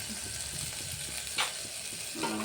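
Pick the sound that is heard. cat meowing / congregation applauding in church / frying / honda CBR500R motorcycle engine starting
frying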